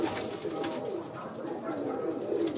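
Cream-eyed pigeons coo on a rooftop loft in a soft, continuous murmur of overlapping calls, fairly close and steady throughout.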